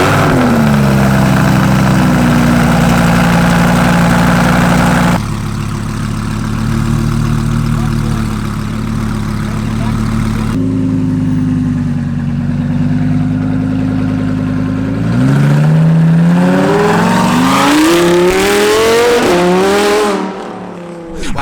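A wrapped Lamborghini engine at a car meet: a loud, steady idle runs close by, then several rising revs build in pitch as the car pulls away near the end.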